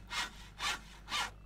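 A handsaw cuts through wood in Landwirtschafts-Simulator 17 with three loud, evenly spaced rasping strokes, each swelling and fading, with no voices over them.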